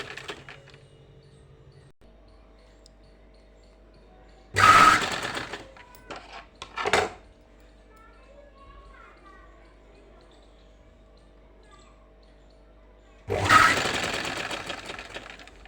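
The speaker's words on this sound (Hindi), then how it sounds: "अब इसकी भी स्टिचिंग कर लेते हैं" A sewing machine stitches a salwar in two loud, fast whirring bursts close by, with a short clatter between them and quiet hum in the gaps. Someone speaks in Hindi between the runs.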